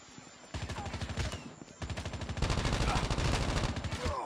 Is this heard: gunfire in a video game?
yes